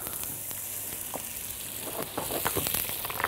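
Butter melting and sizzling in a pan for a caramelized onion dip, a soft crackling fizz that grows busier and louder toward the end, close and with no talking.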